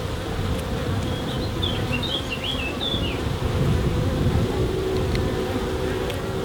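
Honey bees buzz steadily around an open hive during a frame inspection, a continuous droning hum with brief higher buzzes of individual bees passing close, no talking.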